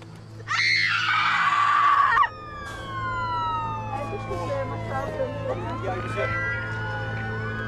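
An ambulance siren wails loud and close, its falling and rising tones sweeping over a steady low engine hum after a three-vehicle road crash, with no talking.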